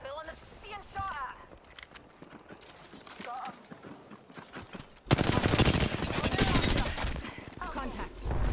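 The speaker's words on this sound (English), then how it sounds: "Listen up, I'm getting shot at." Gunfire in the Apex Legends video game while a player is being shot at. Quieter game sounds and voices come first, then dense, loud rapid-fire bursts follow to the end.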